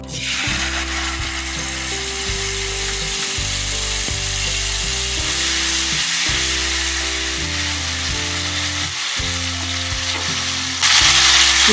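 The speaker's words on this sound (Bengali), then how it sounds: "ফোড়নটা ভাজা হয়ে গেছে, এর মধ্যে দিচ্ছি একটা টমেটোর পেস্ট" Tomato paste fries in oil over a tempering of bay leaf, dried chillies and cumin for a taro root curry, making a loud, continuous sizzle with occasional scraping stirs and no talk.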